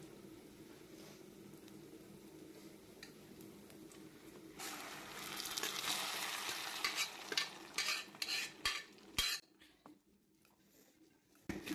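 A spoon scrapes and stirs through a thick horse gram lentil mixture in a metal pot, starting softly and then growing into a run of louder, irregular scraping strokes.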